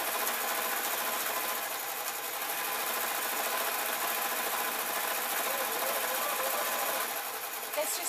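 A sewing machine runs continuously while stitching a satin apron, a steady close mechanical whir with a faint voice under it.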